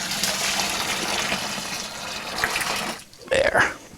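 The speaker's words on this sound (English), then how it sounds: "I'm going to pour it down the lid to get the stuff off the lid as well." Hot water poured over a brewing pot's lid while home brewing a brown sugar lager, a steady close splashing gush that stops abruptly, followed by a couple of brief clattery knocks.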